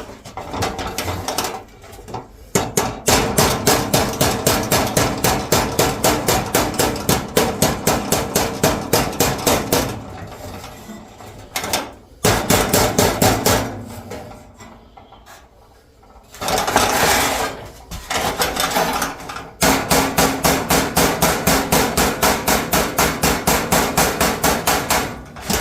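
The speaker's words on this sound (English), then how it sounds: "See if we can't hammer that down." Rapid, rhythmic metal hammering on a 1920s bus body, loud and close, coming in long runs of sharp ringing blows separated by brief pauses and quieter working noise.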